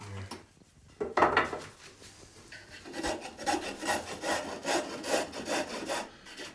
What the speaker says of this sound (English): I'll turn it down to a pretty small little nub real quick here.